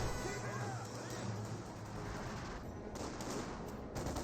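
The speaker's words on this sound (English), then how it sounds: "MT-34 firing away, gets some hits there onto that rifleman" A T-34 tank fires at infantry in Company of Heroes 2 amid a busy battle, a muffled thump lost in constant crackling gunfire and rumbling engine noise.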